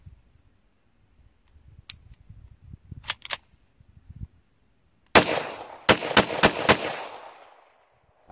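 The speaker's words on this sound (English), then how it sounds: "I'm going to let off my last two rounds real quick" A large gun fires a few sharp, separate shots early on, then a loud cluster of about five quick blasts that echo and fade, with quieter rustling and handling noises between them.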